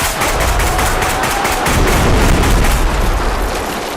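Rapid gunfire from the Bodycam video game as a drone is shot down, a dense, loud and continuous burst of shots with no pauses across the whole stretch.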